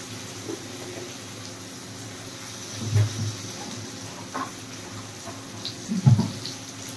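Water goes into a pan of Katla fish curry being cooked, a soft running splash with two heavier gushes partway through, close by and with no talking.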